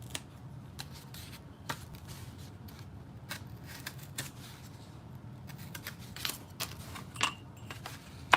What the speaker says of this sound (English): And so I'm just gonna cut it from here.